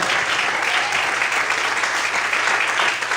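Church congregation applauding the Lord during a sermon, a steady loud wash of dense clapping that holds evenly throughout without pause.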